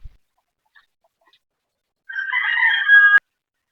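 A White Leghorn rooster on a poultry farm crows once, clear and fairly close, for about a second against a quiet morning background, after a few faint scattered noises.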